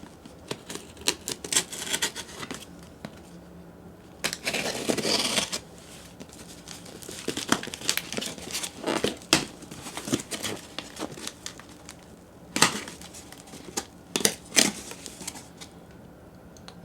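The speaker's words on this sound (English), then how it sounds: "Okay, now I'm going to get to the unboxing." Headphones come out of a double-layered cardboard box with quick scratchy rustles, taps and crinkling bursts. The handling is close and fairly quiet, in irregular clusters between short pauses.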